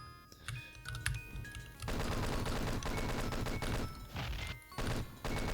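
Rapid chain-gunner fire in Doom 2 rattles through as dense, sustained bursts with a short lull near the start, loud and continuous over game music and ambience.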